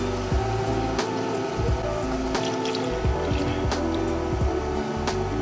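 Water poured from a container into a pot of bolognese sauce with diced tomato, a steady close trickle and splash running for several seconds over a low background hum.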